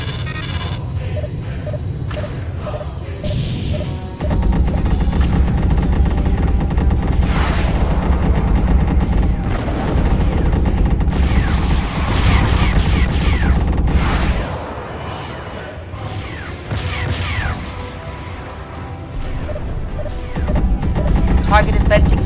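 Mass drivers on warships in the space combat game Freespace Blue: War in Heaven pound away in continuous rapid fire. A dense, loud barrage of crashing shots and booms runs throughout, briefly easing midway, with voices talking over the battle.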